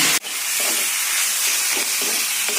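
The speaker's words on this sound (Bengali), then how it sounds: "এর মধ্যে কপি পাতাটা দিয়ে দেবো অল্প একটুখানি নিয়ে ভেজে নেবো" Cauliflower leaves frying with garlic leaves in a pan, a continuous close hiss of sizzling oil after a brief sharp knock, with faint stirring touches and no talk.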